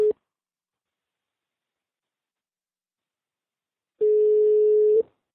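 Telephone call being placed: a steady ringback tone sounds once for about a second, clear and isolated, after a brief tone blip at the start and a long stretch of silence.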